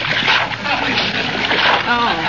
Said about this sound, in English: One side there now, Molly, while I toss in the spaghetti.